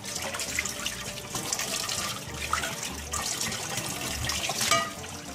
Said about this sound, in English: So now we can just go ahead and rinse that whole pan out.